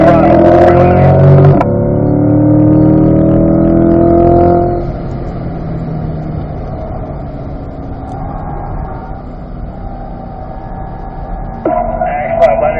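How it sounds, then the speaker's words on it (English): A C8 Corvette on the Spring Mountain Raceway track roars under open throttle, its engine note climbing through rising gears, then easing to a lower steady drone before building again, with a voice coaching over it. "Now open the throttle."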